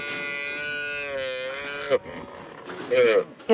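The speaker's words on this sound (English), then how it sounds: "the noisy calves which we have to do the work on" Calves at an outback cattle roundup for tagging, penned in a stockyard chute, giving a long, loud close moo followed by shorter bellows, with some background noise between calls.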